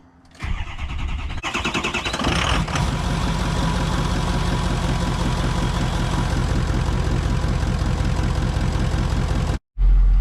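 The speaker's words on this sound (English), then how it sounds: "here is the cold start on the new KCTurbo turbocharger" A truck engine fitted with a new KCTurbo turbocharger cold-starts with a brief crank, then catches and settles into a loud, steady, rumbling idle held close for several seconds before abruptly cutting off.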